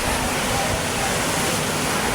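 Wave pool water at Sea Breeze Resort in Taguig churns like sea surf, a steady loud broadband wash with no pauses throughout.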